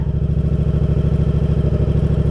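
A motorcycle engine runs steadily up close, its low throbbing pulse even and continuous, with a slight rise in load as the clutch is half released and the bike begins to pull uphill.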